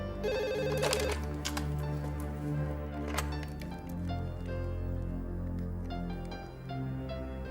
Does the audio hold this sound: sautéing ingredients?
no